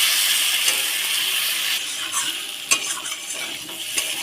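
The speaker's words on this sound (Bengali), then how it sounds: "কলা দিয়ে আর একটু কষিয়ে নেব" Banana and potato sautéed with spices in a pan give a bright, steady sizzle. Close stirring scrapes and a few utensil clinks sound against the pan.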